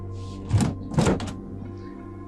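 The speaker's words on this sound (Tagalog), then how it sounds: "Biglang sumara ang malakas na pinto sa kusina." A heavy kitchen door slams shut twice in quick succession, loud thuds over a low background hum, used as a dramatic sound effect in a horror story.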